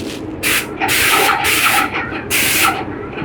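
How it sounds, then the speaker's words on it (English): Titan 440 airless paint sprayer at full pressure, loud steady hissing spray in three or four bursts a second or so long, with short quieter gaps between. "And then it sprays pretty well."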